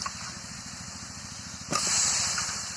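Chicken pieces drop into hot oil for a Bengali chicken bhuna, setting off a sudden loud sizzling hiss that swells partway through and stays strong over a low steady background hum.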